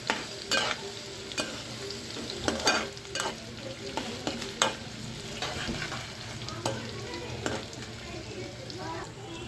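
Sliced onions and curry leaves frying in a pan for a potato fry, a continuous sizzle broken by repeated sharp spatula scrapes and taps.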